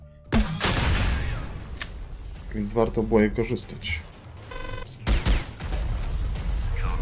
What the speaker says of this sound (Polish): spróbujmy z granatnikiem. Tylko dwa strzały mi pozostało.